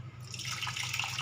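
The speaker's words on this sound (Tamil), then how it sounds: "குழம்புக்கு தேவையான தண்ணி வைக்கிறோம்." Water is poured into a pot of Tamil tamarind curry (kuzhambu) during cooking, a steady, continuous splashing stream at close range with no talking.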